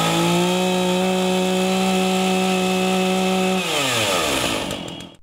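A chainsaw with a thin bar cutting wood, a loud close engine whine with strong steady harmonics that drops in pitch near the end as the cut finishes and the engine winds down.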